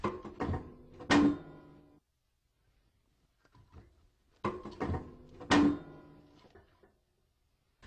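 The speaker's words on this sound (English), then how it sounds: "Now I close the door and set the air control to fully open." A wood stove door is shut twice, each time a clattering metal-on-metal clunk with a brief scrape, fairly close and loud, separated by a short quiet gap.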